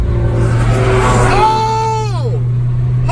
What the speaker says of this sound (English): Dude, that truck is smoking. Look at that. Big diesel whistling Dixie,